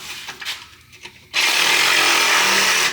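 A power tool with a cutting blade bites loudly into exhaust bolts on a 2JZ-powered Lexus GS300, starting abruptly after brief quieter rustling and holding a steady, harsh, close-up whine to the end.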